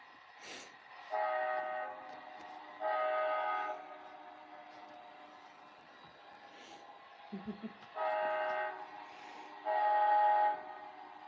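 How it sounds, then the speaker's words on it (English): A train horn sounds in four long blasts, with a brief low thud between them and quiet background in the gaps. "Train."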